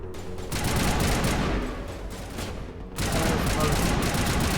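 Rapid weapon fire crackles in dense bursts during a firefight against enemies in the Mass Effect video game, loud throughout with a brief dip near the middle.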